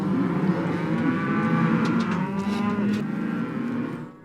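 Cattle and calves low and moo steadily at a Montana ranch spring roundup and branding, a loud, continuous chorus of overlapping bovine calls from a nearby herd, with a faint vehicle hum behind.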